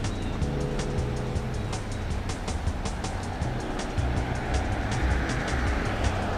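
Cars pass by on a road in a continuous stream, a steady mid-level traffic rumble with repeated tire swishes and faint clicking noises, heard from the roadside.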